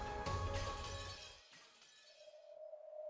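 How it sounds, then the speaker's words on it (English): Glass shatters in one loud, sharp crash in an anime scene, with bright debris tinkling away over about a second before it falls quiet and a low steady tone rises. "There was the sound of glass shattering"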